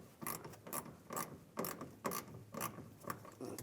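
A ratchet wrench tightens a leaf spring shackle bolt on a 2007-2013 Chevrolet Silverado, giving quick bursts of close, crisp clicking in a steady back-and-forth rhythm.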